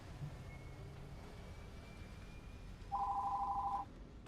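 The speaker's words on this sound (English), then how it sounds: "Oh, the phone's ringing" A telephone rings once in a short electronic burst, fairly loud over a steady low background hum, with no talking.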